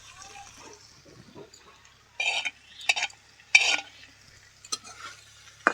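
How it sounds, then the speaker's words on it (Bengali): Fried prawns stirred in hot oil in a pan for a Bengali prawn dish, with several short scraping stirs in irregular bursts against a faint sizzle, close and fairly loud. "এবার ভালো করে মিশিয়ে নেব।"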